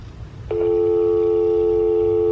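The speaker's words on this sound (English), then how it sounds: "So there's my dial tone." After a click, a steady unbroken telephone dial tone hums loud and clear through the speakerphone of a Panasonic KX-PRW120 Wi-Fi cordless phone, holding constant to the end.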